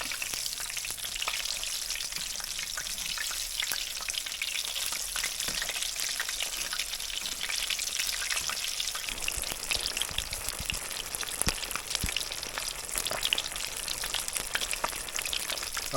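Largemouth bass fillets fry in a pan over medium-high heat, giving a dense, continuous crackling sizzle with scattered sharp pops like spattering drops, heard up close and alone for the whole stretch.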